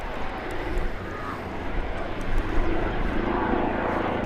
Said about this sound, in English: police helicopter, I think.